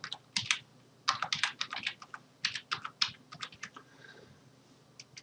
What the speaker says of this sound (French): on va taper le mot de passe qu'on a choisi à l'installation